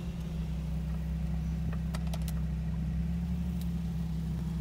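Lexus IS200 with a swapped, boosted 1JZGTE engine running on E85, heard from inside as a steady low drone with faint clicks and ticks on top.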